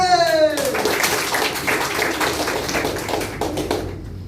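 A small audience claps, the hand claps close and steady with a light, pattering rhythm. The applause tapers off after a few seconds, with a voice briefly audible at the start.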